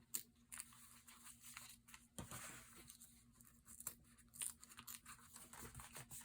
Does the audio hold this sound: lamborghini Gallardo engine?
no